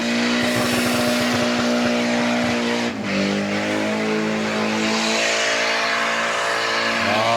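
A car at a car show sweeping through tight turns, engine loud and close with rising and falling revs and a hint of tyre squeal.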